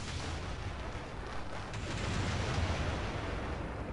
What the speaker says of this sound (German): Kaboom! Epic Explosion.